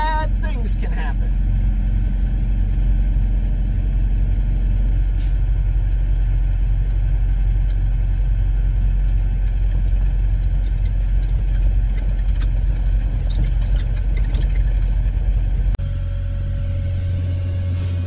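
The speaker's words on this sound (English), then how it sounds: "I don't like driving down dirt roads in a semi-truck" A semi-truck engine rumbles steadily and close while the rig drives down a dirt road, a continuous low drone that drops to a lighter hum near the end, with someone talking over it.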